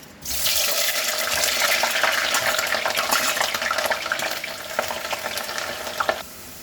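Onions sizzle loudly in hot red oil mixed with groundnut oil, a steady broadband crackle starting abruptly and running close and continuous for about six seconds before cutting off, with no talking.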